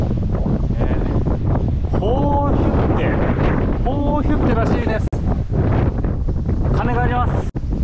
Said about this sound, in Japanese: めちゃ風強い、台風来ちゃってるよ。